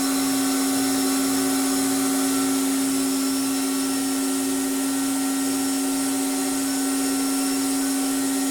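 Loud, steady whir from the power supply fan of a Bitmain Antminer B3 crypto miner, a constant hairdryer-like hum and hiss with no breaks, recorded up close.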